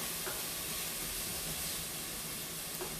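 Refried beans and onions sizzle steadily in olive oil in a pan, a constant close hiss with fine crackle and no talking.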